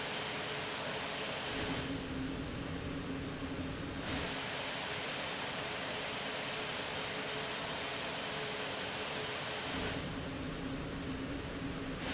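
Continuous jet engine roar from a PMDG Boeing 737-800 landing in the Prepar3D v5.2 flight simulator, a steady broad rumble that shifts in tone twice.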